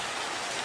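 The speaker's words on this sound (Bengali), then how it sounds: "বন্ধুরা বৃষ্টিটা একটু ছাড়ছে" Rain pours steadily during a storm, a dense, even wash of drops hitting surfaces with no breaks or voices in this very short stretch.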